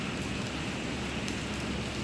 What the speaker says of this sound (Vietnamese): Hôm nay trời đang mưa rất là lớn đây.